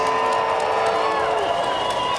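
A Friday-night hockey arena crowd in Red Deer cheers for the Rebels, a broad roar of whoops and clapping filling the building, steady and fairly loud, with some shrill whistles rising through it.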